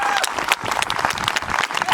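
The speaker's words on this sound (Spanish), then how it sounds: "Eu pediría un aplauso, pero máis forte co de antes, non?" Audience applause at a singing contest event, dense steady clapping from a crowd filling the whole stretch, loud and close with scattered voices mixed in.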